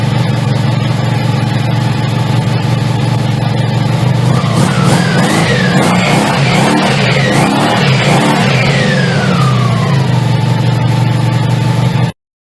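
A 1987 Honda Magna V45 700cc motorcycle engine idles steadily close by after carburetor work, with a throbbing low hum and a rise and fall in revs midway through before it cuts off abruptly at the end.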